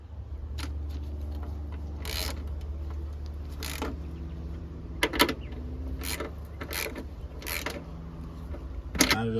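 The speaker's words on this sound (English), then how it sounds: "you can go ahead and tighten up your bolts here" Ratcheting and wrench clicks from bolts being tightened on the upper front strut mount of a Cadillac ATS, a few sharp bursts of metallic clicking over a steady low hum, fairly close.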